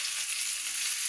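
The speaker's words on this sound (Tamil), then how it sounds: "மீதம் இருக்கிற நெய்யிலேயே நம்ம வல்லாரக்கீரையை போட்டு" Indian pennywort leaves fry in ghee with a steady, even sizzle throughout, close and continuous with no voices.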